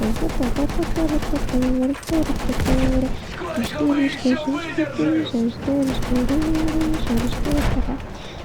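Gunfire in the video game Battlefield 1, sharp shots and rapid bursts crackling under near-continuous close talk from a player.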